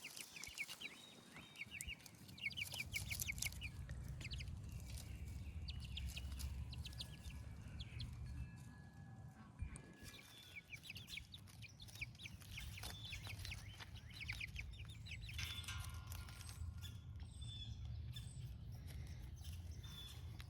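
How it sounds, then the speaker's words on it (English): Chickens foraging outdoors, hunting, pecking and scratching in the grass, give soft intermittent clucks and chirps at a moderate distance over a steady low outdoor background. "See if they can figure out what they can hunt and peck and scratch at before I distract them with chicken food."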